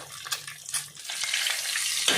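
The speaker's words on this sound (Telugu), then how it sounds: "మీడియంలాగా వేపుకోండి" Steady sizzling and crackling of food frying in a hot pan, close and continuous, with a few clinks of stirring.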